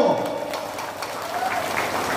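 Audience clapping at a community gathering, a broad steady patter of many hands sustained for a couple of seconds, with a faint murmur of voices mixed in.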